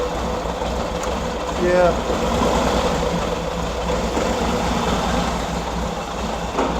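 A Harley-Davidson VL motorcycle engine runs in first gear with the clutch engaged, giving a loud, steady, continuous rumble throughout, and a voice speaks briefly over it.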